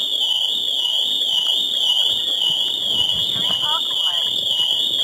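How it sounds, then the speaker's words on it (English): A Nissan GT-R's Pandora Elite car alarm blares a steady, piercing electronic tone continuously at high pitch after the door is opened, with a voice talking faintly underneath. "So open the door, the alarm goes off."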